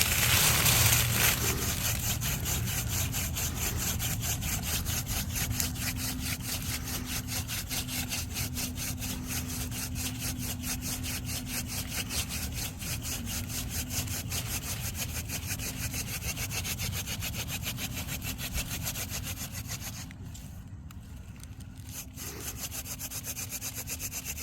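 A wooden friction fire drill rubs steadily against a board to raise smoke, giving a continuous close scraping, sawing-like grind that runs unbroken, with a brief dip in intensity near the end.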